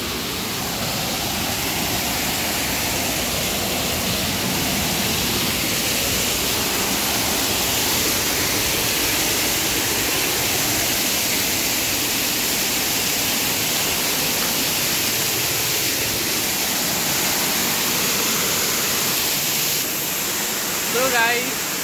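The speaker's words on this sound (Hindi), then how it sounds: "तो अभी उधर एक छोटा सा झरना है, वो पहाड़ से जो पानी आता है उधर से" Water rushes steadily down a small hillside waterfall on a trek trail, a constant broad roar that holds loud and unbroken throughout with no voices over it.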